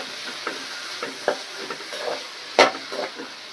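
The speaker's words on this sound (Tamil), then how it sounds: "நல்லா வதக்கிடலாம்." Chopped onions with fennel seeds and curry leaves sautéing in hot oil for crab gravy, a steady close sizzle broken by scraping stirs of a spoon in the pan.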